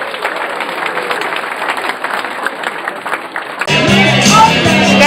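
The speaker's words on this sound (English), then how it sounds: "Please give yourself a round of applause for making tonight happen" Guests at a grand reunion give a round of applause, a dense wash of clapping and crowd noise that gives way to a louder, busier room sound near the end.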